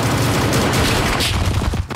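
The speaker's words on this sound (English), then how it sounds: "Why are your gunshots from behind the door?" Dense, continuous gunfire from SCP: Anomaly Breach 2, with rapid bursts and booms, loud and close, filling the whole stretch without pause.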